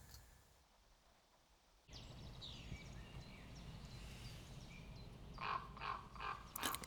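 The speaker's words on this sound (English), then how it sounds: "at 5 in the morning, the crows decided that sleeping time was over." Crows cawing at five in the early morning beside a countryside camp, a few harsh caws breaking out toward the end over a low, steady outdoor background, moderately distant.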